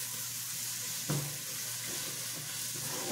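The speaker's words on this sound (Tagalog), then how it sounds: "I have to cook first the beef. Make it brown." Ground beef browning in a pan for spaghetti with beef tomato sauce, a soft continuous sizzle with one brief scrape of a spatula, close and quiet.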